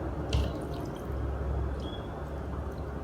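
Gravy trickles and drips softly onto string hoppers for a biryani, a quiet wet pour with small splashy drops and one brief louder splash near the start.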